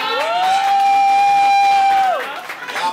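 A single loud, drawn-out shout rises from the crowd at a hip-hop showcase in a Bronx cafe, holding steady for about two seconds before tapering into scattered murmurs and cheers.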